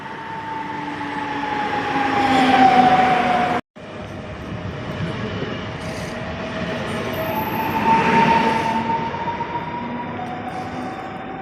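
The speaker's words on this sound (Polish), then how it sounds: "Jest mi pociąg." A train arriving at a station rumbles steadily with rolling wheel noise and a high squealing tone rising and fading, briefly cut out, then continuing close by.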